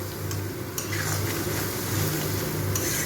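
A tomato-ginger masala paste for pointed gourd kofta is sautéed in a pan, giving a loud continuous sizzle with a few sharp metallic clinks of the spatula against the pan.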